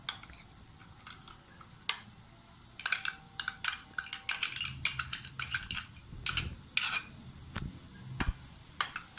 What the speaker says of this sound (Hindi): अब हम इसके अंदर ये दही शामिल कर देंगे और इसको अच्छी तरह से इस तरह से फेंट लेंगे